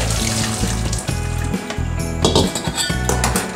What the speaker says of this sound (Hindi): इसके ऊपर ठंडा पानी रन करेंगे ताकि जो भी ओवर कुकिंग हो रही है वो ना हो